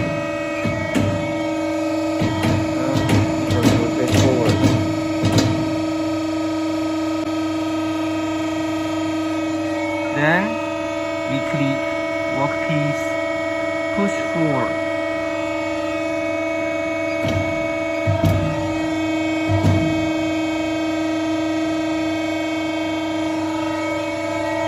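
A cookware polishing machine turns a barrel or keg workpiece, giving a constant motor hum with strong tonal drone, with clusters of clanks and knocks early on and again midway.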